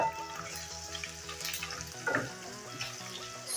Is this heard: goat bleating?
no